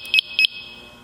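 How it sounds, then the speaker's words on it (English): A PASS device on a Scott Air Pack 75 firefighter breathing apparatus gives two short, loud, high electronic chirps in quick succession, then falls quiet. "The pass device on the air pack, which we have heard chirping a couple of times, automatically activates when the air pack is turned on"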